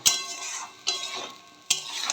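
Masala sautéing in a pan on a gas stove, three sharp spoon strikes against the pan about a second apart, each trailing into a soft hiss, fairly quiet.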